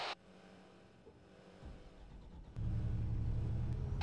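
AMV-7 Marshall armored vehicle engine in Arma 3, a low steady rumble that swells into a louder, heavier drone partway through.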